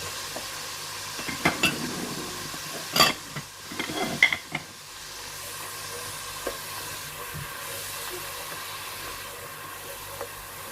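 Spices, ground almonds, salt, chili, coriander and turmeric being stirred into sizzling degi biryani masala: a soft steady frying hiss with several scraping stirring strokes early on, then quieter continuous sizzle.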